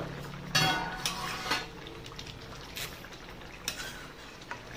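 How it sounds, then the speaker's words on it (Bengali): Metal clinks and clatters from a cooking pot of dal with vegetable stems, its lid lifted off with a few sharp knocks, then a soft simmering hiss continues underneath, with no voices. "ঢাকনাটা খুলে দেখবো ডালটা কতটা সেদ্ধ হলো।"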